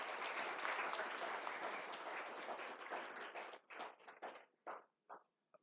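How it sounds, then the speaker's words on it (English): An audience bursts into sustained applause at an event, a dense wash of clapping that tapers off into scattered individual claps before stopping. "So big round of applause to the whole team."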